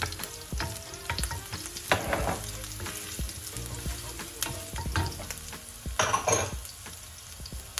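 Garlic fries in a hot pan with a steady crackling sizzle, broken by a few clanks and scrapes of stirring, close and moderately loud with no voices.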